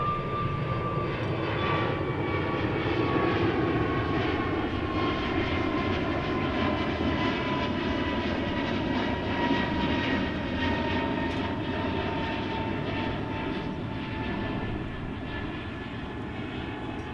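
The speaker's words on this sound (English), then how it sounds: "American flight going to San Francisco. It's an Airbus A321neo," An American Airlines Airbus A321neo jet at DFW Airport, bound for San Francisco, gives off a loud, sustained engine roar with a slowly shifting whine that fades a little toward the end.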